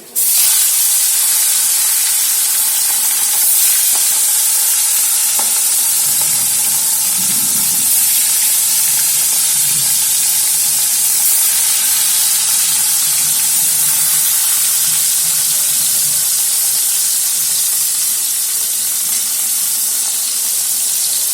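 Oil heating in a kadai for bata fish, a loud continuous hiss with steady sizzling texture and no talk.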